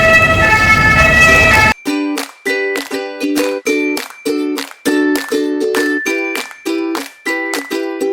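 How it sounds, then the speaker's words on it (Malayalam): Steady rain hiss is followed by a loud ambulance siren in Rennes, its two-tone wail repeating in rapid rhythmic bursts close by. "Ambulance guys, ambulance."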